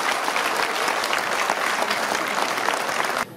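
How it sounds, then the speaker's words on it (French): Steady applause from a room of guests at a community seniors' banquet, thanking the volunteer organisers; dense, continuous clapping with no talk, ending abruptly. "je voudrais qu'on applaudisse les 25 bénévoles qui organisent"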